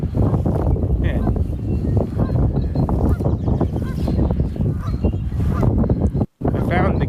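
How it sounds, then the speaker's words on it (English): Geese honk amid loud, broadband outdoor noise, their calls partly buried in a busy, roaring background with no clear talking. "I found the geese."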